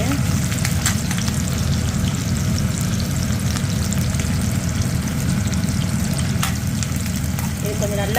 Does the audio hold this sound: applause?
no